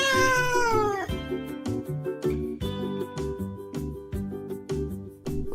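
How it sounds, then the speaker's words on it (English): A cat meows under a backyard swing, a close, loud drawn-out cry that slides downward, then gives way to a busy rhythmic backdrop of repeated tonal hits carrying on to the end. "The cat is under the swing."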